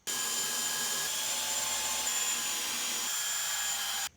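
A 2mm Fisch HSS twist drill bit boring holes, a steady high whirring drill run holding for about four seconds before stopping abruptly.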